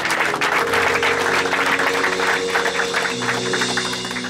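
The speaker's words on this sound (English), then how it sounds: "Give the Lord a clap of praise." A church congregation claps in praise, loud and steady rapid clapping over a sustained musical drone, with no talk.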